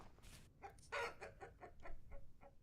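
Chickens in the video game Vintage Story cluck softly in a quick string of about seven or eight short, clipped calls with one louder squawk among them, heard faintly and close by.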